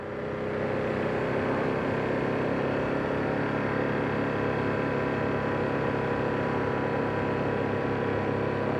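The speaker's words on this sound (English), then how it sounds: "the engine sounds really nice" A 2025 Ducati Streetfighter V2S motorcycle engine drones steadily while riding, held to moderate revs during run-in, a loud continuous hum mixed with wind rush and no talk.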